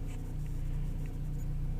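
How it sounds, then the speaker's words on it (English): A tuned Ford Mustang EcoBoost idles just after starting while still warming up, a steady low engine hum and rumble with no talking. "Okay, now that's all set up. We're going to start the car."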